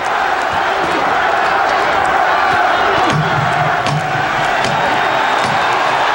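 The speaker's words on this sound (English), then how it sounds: "The crowd on its feet." A boxing crowd is on its feet cheering at the end of a heavyweight fight, a loud, continuous roar with scattered shouts and claps.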